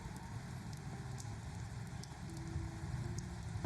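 Rain falling in the game The Wolf Among Us, a steady dense hiss of drops with faint patters and a low rumble underneath, continuous and fairly soft.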